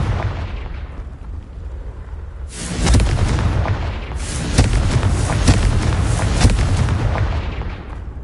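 Fiery Confringo spell blasts from the game Hogwarts Legacy burst out as deep booming explosions, a lighter rumble first, then a louder run of overlapping blasts and crackling debris that keeps going for several seconds, with no talk.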